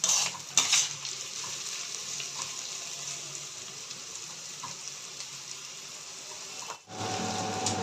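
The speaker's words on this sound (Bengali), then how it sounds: "ঢাকনাটা খুলে একটু নেড়ে দেবো" Noodle vegetables fry in a pan for an egg chowmein, a steady close sizzle with scraping stirs and a few clinks of the spatula, briefly hushing near the end before the hiss returns.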